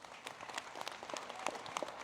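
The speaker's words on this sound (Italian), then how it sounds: "Un applauso a tutti." Scattered applause from a modest crowd, uneven claps blending into a steady patter for a couple of seconds.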